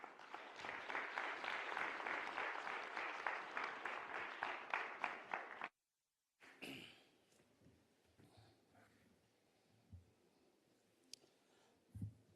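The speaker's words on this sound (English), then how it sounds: "Please, a round of applause for him." Applause at the official opening of Namibia's 4th National Skills Competition, a dense hall-wide clapping for about five seconds that cuts off, followed by quiet room noise with occasional small knocks.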